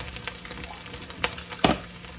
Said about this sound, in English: Give that a good mix round